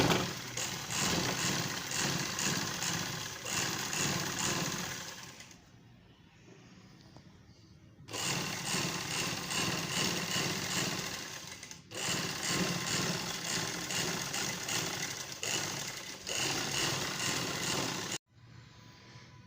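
An electric sewing machine runs steadily and close up as it stitches the side seam of a flare shirt. The motor hum pauses briefly near the middle and again just before the end.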